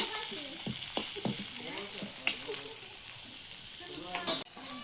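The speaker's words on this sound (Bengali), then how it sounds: "পেঁয়াজ, কুচি, কাঁচামরিচ দিয়ে দিচ্ছি, নাড়াচাড়া করে দিচ্ছি।" Chopped onion and green chili fry in hot oil while being stirred, a close sizzle broken by scraping strokes and clicks, with a sharp knock just before the end.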